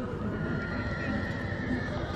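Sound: horse neighing at a horse fair

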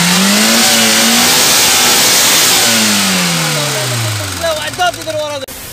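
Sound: VAZ 2107 car engine revving

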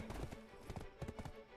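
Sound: horse hooves riding in Black Desert Online video game

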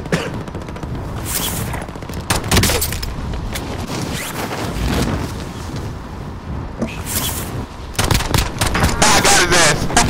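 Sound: gunfire

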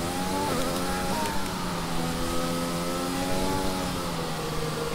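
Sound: F1 car engine braking and downshifting in F1 2020 video game

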